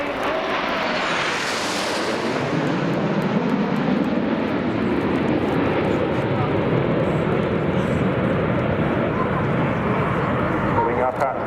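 Jet aircraft roar past in formation at the RAF Cosford Airshow in 2018, a loud broad rush that swells early and then holds as a sustained wash of engine noise with faint voice-like sound beneath.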